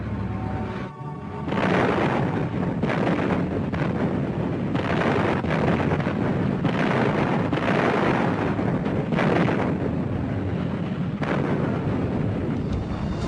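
A WWII naval barrage pounds the shore during a landing in southern France, heavy booming blasts rolling one into another in a dense, loud, sustained roar with no voices.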